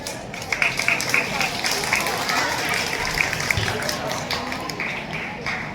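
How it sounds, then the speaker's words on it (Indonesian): Classroom audience clapping for a class 7 group during a morning literacy session at school, a steady broadband patter of many hands lasting several seconds, fairly close and moderately loud, with voices mixed in. "Tepuk tangan dulu untuk kelas 7."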